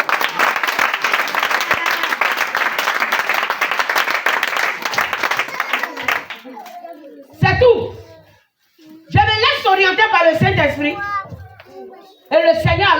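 A church congregation applauds in sustained, dense clapping for about six seconds, then it fades as a preacher speaks loudly in French in short bursts.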